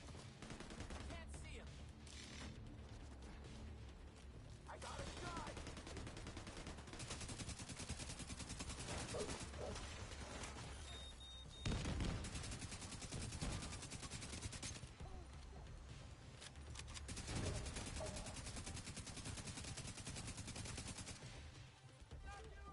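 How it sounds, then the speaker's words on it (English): Enemy gunfire in The Division 2 on PS5 crackles as dense, continuous bursts of rapid shots throughout, with loud impacts mixed into the ongoing combat din. "Some bitches are shooting me."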